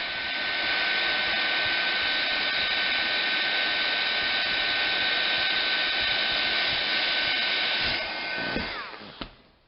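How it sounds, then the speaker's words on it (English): A heat gun runs and heats up with a steady, loud, airy blowing roar and a constant whine, then switches off near the end with a couple of clicks. "I know the heat gun's getting a lot of use this time"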